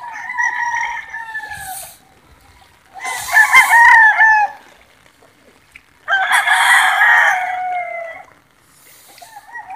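Several rooster crows from chickens caught in a flood, three long loud calls spaced across the clip with quiet pauses between, close by and with no talking.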